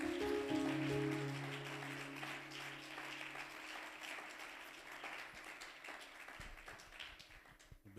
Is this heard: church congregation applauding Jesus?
yes